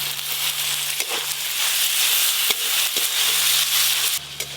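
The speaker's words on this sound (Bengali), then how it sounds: "এবার টমেটো কুচি দিয়ে আর একটু ভেজে নেব।" Chopped tomato fries with ginger, garlic and onion in a pan, giving a loud, steady sizzle close up, broken by occasional scraping stirs and clicks.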